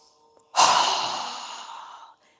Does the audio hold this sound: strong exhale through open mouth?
yes